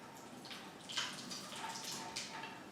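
Hot water from boiled potatoes drains through a colander in a kitchen, a faint continuous splashing and trickling pour with brief surges, heard alone at low level.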